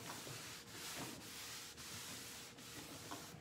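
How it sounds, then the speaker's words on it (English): An old, rickety wooden piece is wiped down with a t-shirt to remove excess milk paint sealer, giving soft, faint rubbing strokes in a regular back-and-forth rhythm with brief pauses between passes. "Now you just wipe back the excess,"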